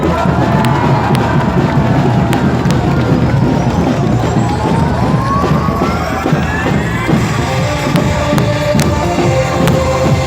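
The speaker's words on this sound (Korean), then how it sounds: "박수 한번 더 보내주세요." A large outdoor crowd at an election campaign rally at Daehanmun in Seoul cheers and applauds, a loud, continuous roar of voices and clapping with occasional sharp bangs.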